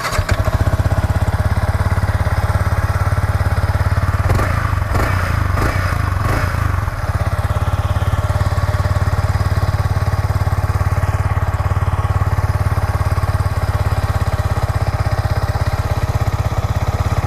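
A Yamaha R15 V4 sport motorcycle starting up, then idling with a steady, loud, buzzing engine drone close by, with a brief burst of mechanical clatter early on.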